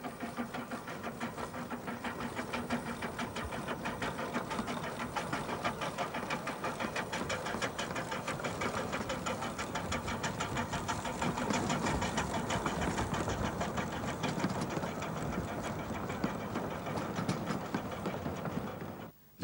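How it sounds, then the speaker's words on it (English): Minimum gauge steam locomotive number 24 runs on a 2-foot 3-inch gauge Welsh railway, its rapid chuffing and clattering wheel rhythm steady and moderately loud, continuing without pause and with no voices. "the railway claims this to be the most powerful minimum gauge locomotive in the world"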